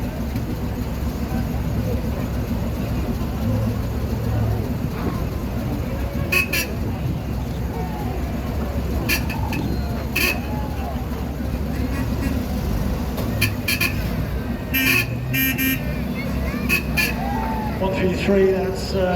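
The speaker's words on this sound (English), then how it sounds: "that's the GMC CCKW 353, big troop carrier coming past us" A GMC CCKW 353 military troop carrier rolls past in a military vehicle cavalcade for the Guernsey Liberation Day 80th anniversary, its steady low engine rumble under a crowd's chatter, with a few horn toots and nearby clatter.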